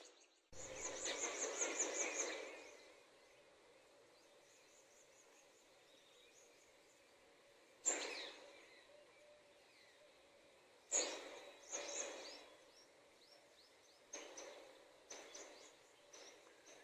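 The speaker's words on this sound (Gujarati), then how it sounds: "પંખીઓનો કલરવ એટલો સરસ મધુર અવાજમાં જોવા મળે છે જે તમે" Faint birdsong outdoors: scattered chirps and short calls come and go over a steady hiss, with a louder burst of sound early on and no talking.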